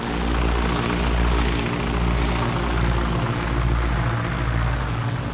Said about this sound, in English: The Spartan aircraft chugged above the crated rice paddies below, on its way to the relative safety of neighboring Thailand.